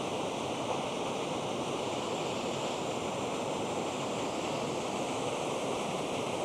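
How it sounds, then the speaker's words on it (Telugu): Lumsdale waterfall in Matlock, in the Peak District, roars close by as a steady, dense wash of rushing water that holds unbroken throughout, with no voices. "ఇదే మన లూమ్స్డేల్ వాటర్ ఫాల్ మ్యాట్లాక్లో"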